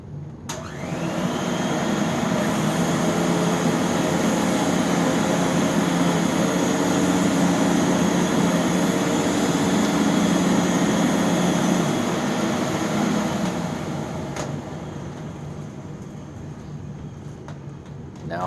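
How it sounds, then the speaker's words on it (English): Canister vacuum cleaners run with a loud, steady whine and broad airflow roar that holds for about thirteen seconds before the motor spins down, with a click near the end. "all these canister vacuums, or at least all the canister vacuums she's decided to rerun"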